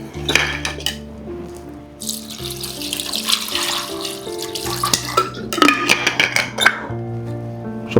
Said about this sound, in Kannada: ಜೊತೆಗೆ ಒಂದು 250 ml ಅಷ್ಟು ನೀರು ಹಾಕ್ಕೊತಾ ಇದ್ದೀನಿ.